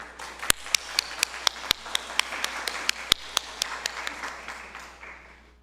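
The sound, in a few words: congregation applauding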